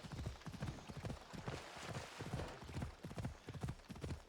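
A horse in Assassin's Creed Odyssey trots with steady, rhythmic clip-clop hoofbeats across the countryside. The hoofbeats are close and continuous and are not masked by talk.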